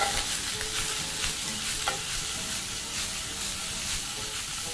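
Pork fries in a hot pan without liquid, giving a steady close sizzle and hiss with occasional stirring scrapes throughout, with no talking.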